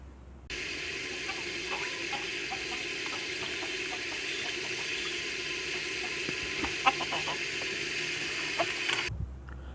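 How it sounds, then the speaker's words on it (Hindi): Tap water runs steadily into a sink while raw chicken is washed for a Pakistani-style aloo gosht curry, with faint clinks and splashes of handling scattered through the continuous flow. "चिकन को अच्छी तरह से धो लिया ताकि हमारा चिकन अच्छी तरह से साफ़ हो जाए।"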